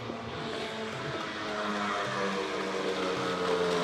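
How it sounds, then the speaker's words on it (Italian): A scooter engine hums steadily as it approaches on an Italian street, growing gradually louder and nearer, a continuous motor drone with no voices over it. "Io sento un motorino"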